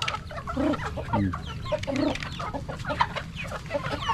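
Chickens cluck softly in short, scattered bursts, with other farmyard birds chirping through a steady outdoor background.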